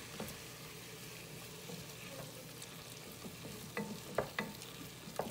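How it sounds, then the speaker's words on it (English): Corn chowder being stirred in a pot as milk is added a little at a time, a quiet steady sizzle and wet stirring with occasional soft scrapes and clinks of the spoon against the pot, no talking. "I'm gonna add the milk and I'm gonna keep stirring it until it gets thick."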